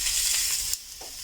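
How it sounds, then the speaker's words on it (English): Hot dogs fry in a tablespoon of oil, giving a bright, loud hiss of sizzling that holds steady for most of the moment, then cuts off abruptly and leaves only a faint crackle. "And then now I'll just fry them for a minute, okay?"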